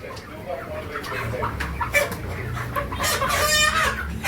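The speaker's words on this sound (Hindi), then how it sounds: "देख सकते हैं चिकन अभी पकड़ेगा।" A chicken at a meat shop clucks and squawks as it is grabbed to be handed to a customer, loud and close, over a busy background with faint voices.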